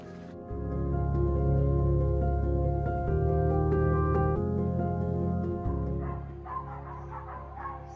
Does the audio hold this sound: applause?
no